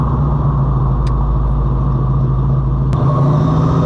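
A 1971 Chevelle SS 454 convertible cruises on the road, its big-block V8 a steady, loud low rumble with constant road and wind noise, no talking.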